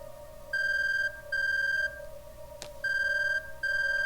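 Electronic phone ringtone in the game 428: Shibuya Scramble, four evenly spaced bright beeping bursts with short gaps, one faint click between them, over a low steady hum.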